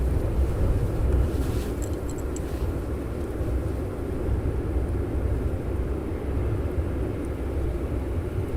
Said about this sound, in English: that wind is keeping it nice and cool for us